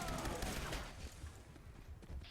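An Executioner's Firerate Gatling laser in Fallout 76 fires in a fast rotary stream of zapping shots. It starts loud and dense, then thins to scattered bursts under faint game ambience.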